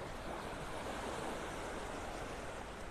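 Surf washes steadily onto a Gulf beach in North Naples, Florida, near Pelican Bay, as a continuous broad hiss of waves with some wind noise and no voices.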